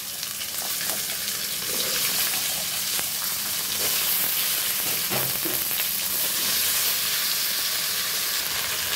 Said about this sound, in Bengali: এবার কেটে রাখা আলু বেগুনগুলো দিয়ে